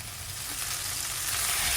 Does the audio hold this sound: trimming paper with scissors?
no